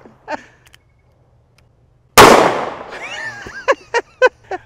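Taurus 856 Ultra Lite .38 Special revolver firing Winchester Defender 130-grain hollow points at tomato sauce cans outdoors: one sharp, loud shot with a ringing tail, then four quick shots in a rapid string.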